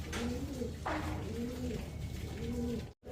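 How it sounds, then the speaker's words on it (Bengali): Pigeons at a bird sale, German shield breed among them, coo in a repeated soft rolling rhythm, close by and fairly faint, with a brief scuffle of movement partway through. "এই দেখেন কবুতর"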